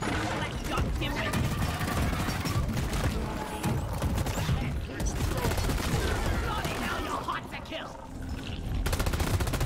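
Near-constant automatic gunfire and clattering weapon bursts in the Deep Rock Galactic co-op shooter, dense and loud across the whole stretch, with a player's voice talking over the din.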